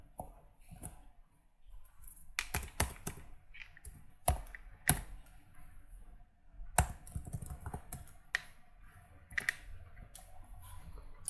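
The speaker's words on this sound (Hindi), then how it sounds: "और हमारा GST का जो भी नंबर होगा वो हम यहाँ पे टाइप करेंगे" Computer keyboard typing in short irregular bursts of crisp, close key clicks with quiet gaps between, entering a GST number into garage management software, no voices.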